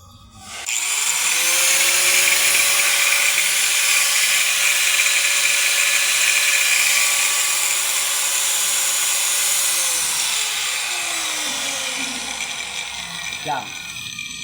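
An angle grinder spins up and grinds metal, a loud sustained high whine with a steady tone that runs down and fades toward the end, close by.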